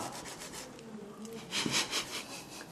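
A knife slices through a homemade beef kimbap roll on a board. Soft, close rasping strokes come in a short series, with the last few louder.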